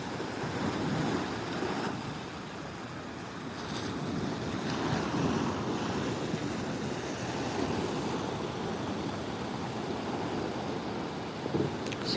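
Ocean waves break and wash along a Maui shore at first light, a continuous rolling surf blended with gusty wind noise, steady throughout with no voices.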